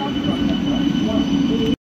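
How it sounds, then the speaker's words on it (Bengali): A train at Howrah station makes a loud, continuous rumble with a steady high whine and a faint voice underneath, until the sound cuts off abruptly. "ফাইনালি আমাদের ট্রেন চলে এসেছে"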